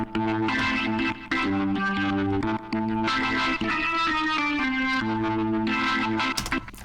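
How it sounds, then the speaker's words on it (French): A rock track played back with a short delay and an old-school spring reverb, giving a slight echo tail and roomy ambience; the full band plays loud and continuous, with no talking. "on lui a mis aussi une petite ambiance avec juste un délai et une petite reverb"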